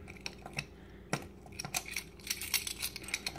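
A bunch of metal keys jangles and clinks in short irregular bursts while someone hunts for the key to a Sega House of the Dead 4 arcade cabinet, close and fairly quiet, with no talk.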